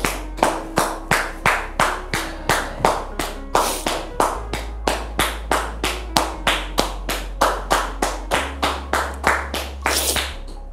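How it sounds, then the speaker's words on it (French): A single steady round of hand clapping, even and rhythmic, with distinct claps continuing for several seconds and no talking over it. "Sous vos applaudissements, s'il vous plaît."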